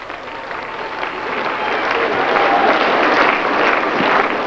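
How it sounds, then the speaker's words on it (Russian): Concert audience applauding in Alma-Ata, a broad crowd clapping that swells and holds, with a faint tone and a bit of crowd murmur mixed in. "Ваши аплодисменты!"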